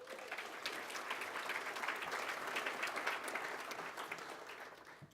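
An audience applauds an award recipient at a ceremony, a steady, even patter of many hands clapping at moderate distance that swells slightly midway and holds throughout, with no voices.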